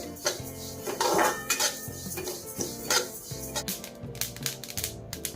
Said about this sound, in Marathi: हे बघा जवळ चांगलं तडतड होत आहे